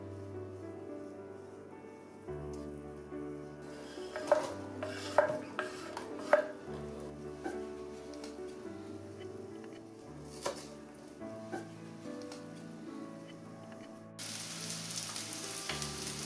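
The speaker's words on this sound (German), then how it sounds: "Die Zwiebel wird nun in etwa 2 Esslöffel Butter glasig angeschwitzt." Onions sautéing in butter in a pan produce quiet bubbling sizzle with irregular crackles and spatula taps, with a low hum and sparse tonal background. The sizzle grows denser and steadier toward the end, and no one talks.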